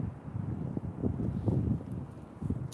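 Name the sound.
wind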